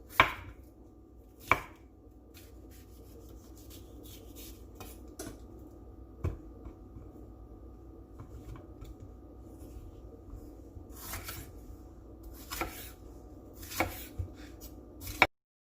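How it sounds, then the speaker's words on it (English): Vegetables being chopped on a cutting board for cornbread stuffing, with sparse sharp knife knocks scattered among quiet scraping and handling noise, close and clear with no talking. "first thing you want to do is chop up all your vegetables"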